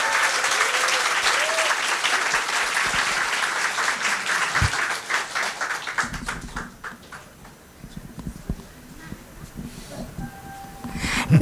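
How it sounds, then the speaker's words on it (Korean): An audience in a church claps for a pianist after a special performance, sustained dense applause that tapers, then gives way to a voice speaking over a few scattered claps. "큰 박수 부탁드립니다"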